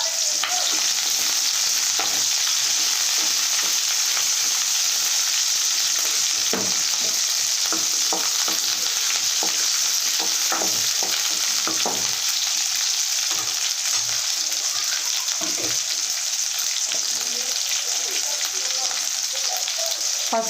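Onion pieces and curry leaves frying in a pan for a fish curry with tamarind leaves, giving a loud, steady, crackling sizzle close by, broken by irregular scrapes of stirring throughout, with no talking.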